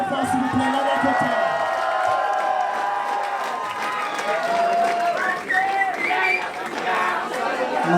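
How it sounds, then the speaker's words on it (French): A crowd at a drag competition finale cheers and claps loudly for a performer, dense applause mixed with whoops, shouts and chatter throughout, with a few tonal cries rising above the din. "On peut l'applaudir bien fort s'il vous plaît, Lana Kota."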